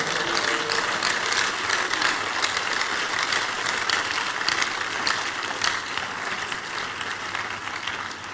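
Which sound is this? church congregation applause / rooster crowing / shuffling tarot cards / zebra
church congregation applause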